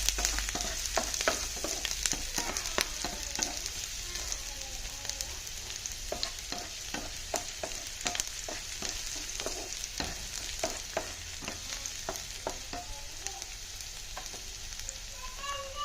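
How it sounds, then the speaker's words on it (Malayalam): Chopped garlic and shallots sauté in hot oil in a pan, giving a steady close sizzle broken by frequent sharp scrapes and taps of a stirring spoon, with no one speaking. "അരിഞ്ഞു വെച്ചിട്ടുള്ള വെളുത്തുള്ളി ചെറുള്ളി ഇട്ട് കൊടുക്കാം"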